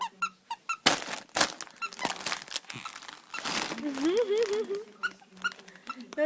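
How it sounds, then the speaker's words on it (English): A dog's squeaky toy gives several sharp squeaks close by, with crinkling and a rising whine-like squeal mid-way, while people talk throughout. "2 squeaks for you, yes."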